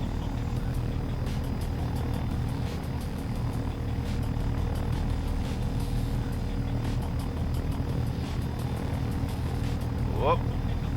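A Littlebird helicopter flying in the video game DayZ, giving a steady, loud rotor and engine drone that runs unbroken throughout, with a brief brighter whine near the end.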